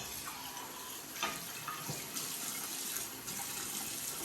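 A cup is rinsed out under a running tap in a bathroom sink, a steady wash of water with a few soft clinks and splashes, fairly faint and without talk.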